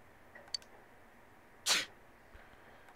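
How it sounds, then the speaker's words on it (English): A single short sneeze from a Persona 4 Golden game character bursts out sharply over a quiet background, with a few faint clicks before and after it. "You sneezed."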